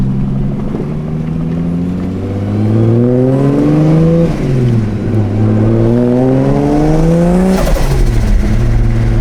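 A loud turbocharged Ford Falcon engine with a dump pipe revs up and down repeatedly, pitch climbing and falling in several sweeps, heard up close with a brief whoosh near the end.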